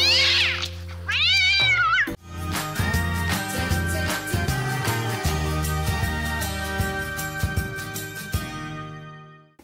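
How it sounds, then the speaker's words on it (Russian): A pet cat meows in a few drawn-out, rising calls close by, followed by steady patterned music that plays under and after the meows. "А вот эксперимент с кисой Алисой."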